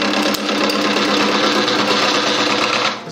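A homemade gouge cuts all the way around a turned wooden table leg spinning on a lathe, giving a steady, loud, close whirring scrape that holds evenly for about three seconds and eases off at the end.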